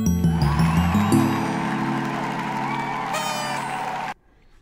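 A short synthesized victory music cue for a game, built as an FMOD event, plays alone as a bright tonal jingle with stepped notes and a sustained chord, cutting off sharply near the end.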